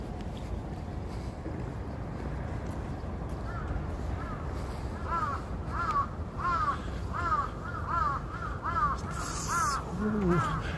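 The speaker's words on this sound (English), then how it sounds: "like you just hear these birds" Birds caw repeatedly in a steady series, moderately close, over a constant outdoor city street rumble in Tokyo.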